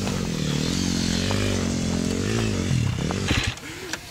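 A motorcycle accelerates hard off the start of a 40 m sprint race against a skier, its loud buzzing engine revving up and climbing in pitch, then cutting off sharply near the end.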